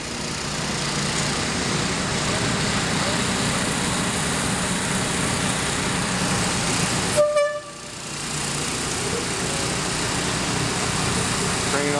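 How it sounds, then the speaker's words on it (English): A crane's horn toots on a marine salvage site where a sunken fishing boat is being raised against barges, a short tonal blast standing out briefly over steady engine and machinery noise. "Crane operator tooting his horn there."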